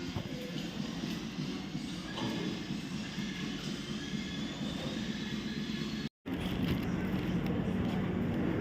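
Railway station platform ambience with a continuous rumble and hiss of trains and rolling wagons, broken by a brief dropout, with faint voices in the background.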